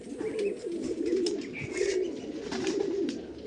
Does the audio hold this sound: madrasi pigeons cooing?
yes